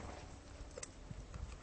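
A horse walks with a rider in the saddle, its hooves clip-clopping in faint, uneven steps over a soft background hiss.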